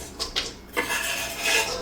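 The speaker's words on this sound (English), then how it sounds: "So now I'm going to cut the onion." A knife cutting an onion on a board makes a few quiet, crisp strikes early on, then fades into a faint, sustained slicing rustle.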